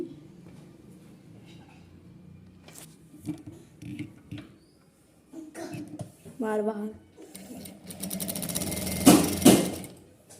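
A Jack A2B industrial sewing machine stitches in a loud, fast mechanical rattle during the last few seconds, after a stretch where a person talks over quieter handling sounds.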